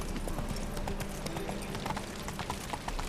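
Hooves of Roach, a horse in The Witcher 3 video game, clip-clop in a steady rapid rhythm, close and loud, with game ambience beneath.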